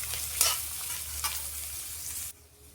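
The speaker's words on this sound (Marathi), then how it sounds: "आता आपले कांदा आणि भाज्या परतून झालेत" Onion and mixed vegetables sautéing in a pan, a steady close sizzle with a couple of sharp stirring scrapes, cutting off abruptly near the end.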